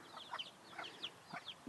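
Surama hens cluck softly in a series of short, faint chirpy calls, several in quick succession, close by in a quiet coop.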